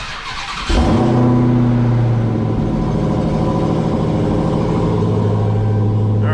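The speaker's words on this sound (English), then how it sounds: "we can get a cold start out of this Hellcat Redeye. So here goes a cold start" A stock 2020 Dodge Challenger Hellcat Redeye cold-starts after a brief quiet moment, cranking into a sudden loud roar and settling into a heavy, rumbling high idle that continues close by, with no voices.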